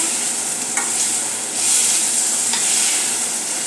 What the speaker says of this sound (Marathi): 2 मोठे टोमॅटो मी चॉप करून घेतलेले आहेत, ते घालत आहोत। तेही परतून घेऊया